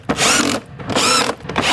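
Tightening hose clamps on a VW GTI airbox with a power driver, heard as two long, loud whirring bursts close up, separated by a short pause and followed by a brief third burst.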